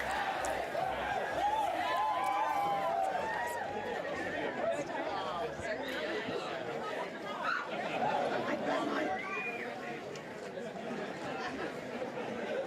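Crowd at an election night speech, dense chatter and excited voices with scattered laughter and cheering, steady and moderately loud throughout.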